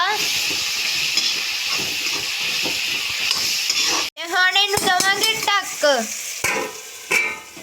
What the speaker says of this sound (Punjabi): ਥੋੜੀ ਦੇਰ ਵਾਸਤੇ ਇਹ ਸਬਜ਼ੀ ਅਸੀਂ ਇੰਜ ਭੁੰਨ ਲੈਣੀ ਹੈ